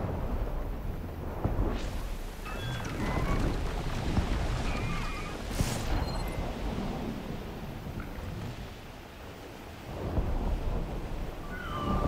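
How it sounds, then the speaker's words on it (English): Stormy weather in the game Horizon Forbidden West: Burning Shores, with deep thunder rumbling steadily over wind and rain for about twelve seconds. Louder cracking bursts hit near the start and middle, with no talking. "Storm's not gonna let up."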